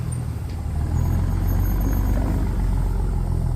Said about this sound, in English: that truck is loud